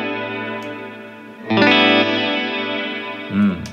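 An electric guitar played through a reverb pedal on its special setting rings out sustained chords with a shimmering, chorus-like wash, one chord struck loudly midway and another swell near the end, all trailing off in long reverberant tails.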